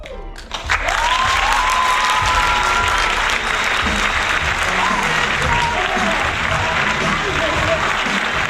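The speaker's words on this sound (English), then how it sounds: "Joyful applause for this absolute sin." A theater audience bursts into loud, sustained applause after a short lead-in, dense clapping with cheers and whistles mixed in and voices calling out throughout.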